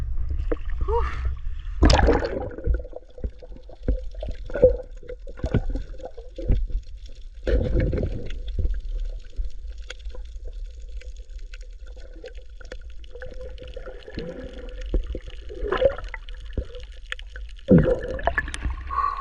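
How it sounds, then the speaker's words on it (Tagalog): Waves slap and wash against a small boat near an island at sea, coming as irregular low splashes and sloshes with quieter stretches between. "Sobrang alon dito mga sir banda oh."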